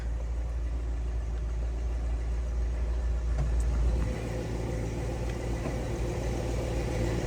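A 1963 Buick Riviera engine idling, a steady low rumble throughout with a slight change in tone partway through, heard up close with no talking.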